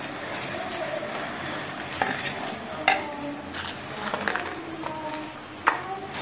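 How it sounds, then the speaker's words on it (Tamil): Chana dal, urad dal and coriander seeds roast in oil in a pan while being stirred, giving soft scraping and rattling over a low hiss. A few sharp clinks of the spatula against the pan stand out. "கடலைப்பருப்பு, உளுத்தம்பருப்பு இது எல்லாத்தையும் நம்ம வறுத்துடலாம் ஃபர்ஸ்ட்."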